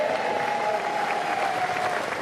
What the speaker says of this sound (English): His most loyal ministers and advisers here to cheer him off.